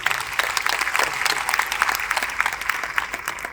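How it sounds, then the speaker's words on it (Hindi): Audience applause at a motivational seminar, a dense steady clatter of many hands clapping together for several seconds with no break. "एक बार इनके लिए ताली बजाइए जोरदार"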